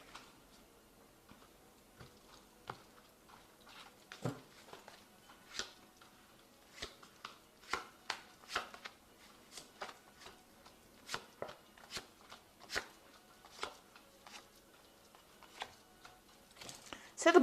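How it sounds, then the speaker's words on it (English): Manga Tarot cards are shuffled and drawn by hand, giving a run of quiet, irregular card snaps and clicks that grow busier toward the end, with a louder rustle at the close. "So I'm going to just draw some cards from the Manga Tarot."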